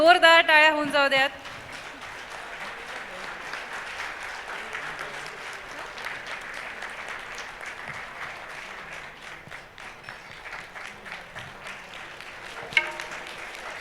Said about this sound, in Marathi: जोरदार टाळ्या होऊन जाऊ द्यात।